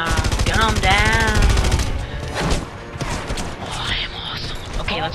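Gunfire in the Red Faction: Guerrilla video game, rapid automatic bursts and shots with mechanical clatter, loud and close, mixed with someone talking over the action.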